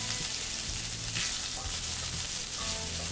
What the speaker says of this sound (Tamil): இந்த வெங்காயம் கொஞ்சம் நேரம் வதங்கட்டும்